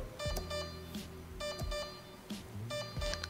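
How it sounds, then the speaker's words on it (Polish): Repeated short electronic beeps from an ASCU unit being tested in service mode as its interrupter is lifted, tones in evenly spaced groups over a steady background hum. "Teraz możemy sprawdzić, czy za każdym podniesieniem przerywacza jednostka wydaje sygnał dźwiękowy"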